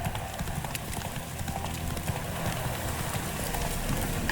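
Roach the horse trots along in The Witcher 3, with steady, fairly close clip-clop hoofbeats over a constant outdoor ambience throughout.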